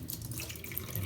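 Tap water running into a sink while basmati rice is swished and washed by hand, a steady close splashing rush with no talk.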